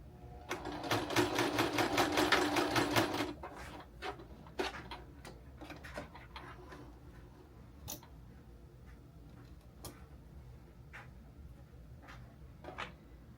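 A sewing machine stitches a lemon-shaped handbag in a fast, rapid burst of needle clatter lasting about three seconds, then falls to scattered clicks and handling taps, close and fairly quiet.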